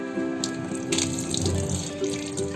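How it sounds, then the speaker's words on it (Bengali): Aloe vera leaves are rinsed under a running kitchen tap. Water streams steadily throughout, with soft splashing and small changes in the flow as the leaves are turned and scrubbed close by. "দেখো জলটাকে ধুয়ে ভালো করে ধুয়ে নিচ্ছি।"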